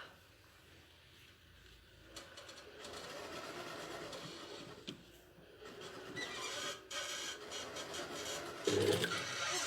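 Sewing machine stitching the seam of a tailored jacket sleeve in a sewing workshop, quiet rattling runs of stitching broken by short pauses and handling clicks, close but fairly soft.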